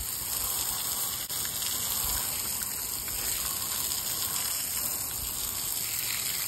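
Car tires being rinsed off with a water spray, a steady, loud gushing hiss that runs without a break, close to the mic, with faint clicks and rattles underneath.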